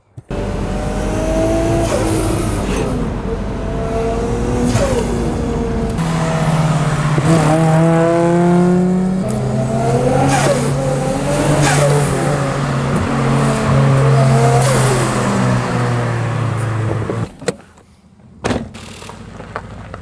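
A Honda Civic EK engine revs up and down repeatedly while driving at night, loud and close, with rising and falling pitch sweeps, then abruptly drops off near the end.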